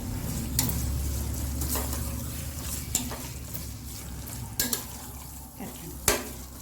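Mutton keema sautés in masala, a low steady sizzle under intermittent spoon scrapes and knocks against the pan, close and moderately loud, without talk.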